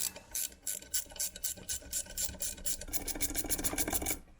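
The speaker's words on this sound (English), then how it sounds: "If you guys don't have ratcheting wrenches, I swear to God, best tool in the world." Rapid ratcheting wrench clicks while taking apart a turbo housing on a turbo E36, a steady run of fast pawl ticks close by with no talking.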